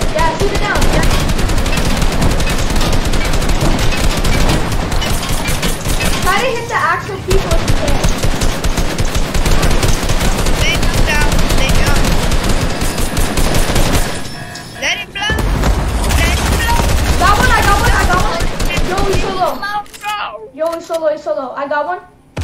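Rapid bursts of video game gunfire shoot at aircraft taking off, loud, dense automatic fire repeating for most of the stretch, with short pauses and a quieter ending.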